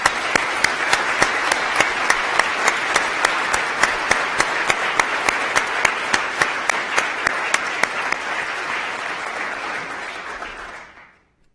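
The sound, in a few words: audience applause for award honorees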